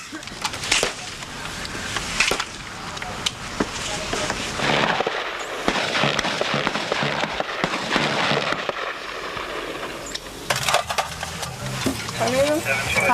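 Cadets firing C7 rifles at an outdoor shooting range, sharp cracking shots scattered irregularly across the clip, some near and loud, others overlapping, with background voices and bustle throughout.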